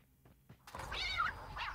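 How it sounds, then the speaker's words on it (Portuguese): Cartoonish cat meow played as the elimination sound in Call of Duty Mobile, a single rising, drawn-out meow after a short soft thud, clear and close, with no talk over it. "Quando você elimina, faz o som do gato"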